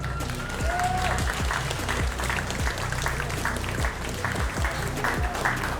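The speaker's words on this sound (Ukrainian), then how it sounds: "Давайте зустрінемо нашого гостя в міжкогоні гучними оваціями." A crowd at a fighting event breaks into loud, sustained applause, with many hands clapping steadily throughout.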